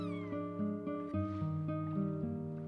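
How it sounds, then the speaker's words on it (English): In the Chrono Cross video game, a cat meows briefly near the start over soft, stepping game music tones that continue underneath. "Oh, there's the cat."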